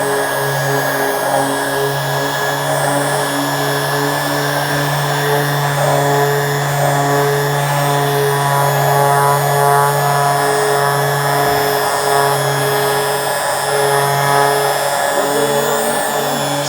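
A DA sander fitted with 320-grit paper works over a MacBook Pro's metal case, giving a loud, steady, high-pitched motor whine with a constant tonal drone that runs unbroken for the whole stretch, with no voices.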